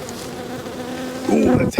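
Honey bees from a hive in an Australian bee yard, a colony that had been weak before winter, hum in a dense, close buzz that swells louder near the end.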